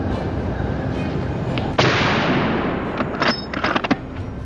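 A sharp gunshot cracks once mid-clip during a wild boar hunt on a wooded hillside, loud and close over steady outdoor noise, followed by a few fainter snaps and rustles.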